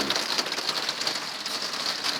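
Heavy rain falls in a mountain valley, a dense, bright, steady hiss of drops drumming on surfaces nearby, unbroken and without voices.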